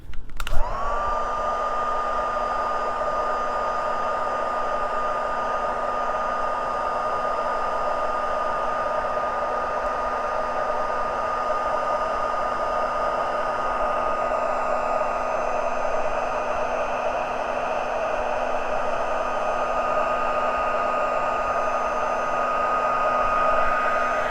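A heat embossing tool blows hot air over embossing powder, a loud, steady, close whine with a constant tonal hum that starts abruptly and runs unbroken for about twenty-four seconds, no speech.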